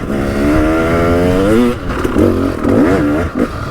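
A KTM 300 EXC two-stroke dirt bike fitted with an FMF expansion chamber and FMF silencer revs up and down, its rising and falling engine note loud and close throughout with no talk.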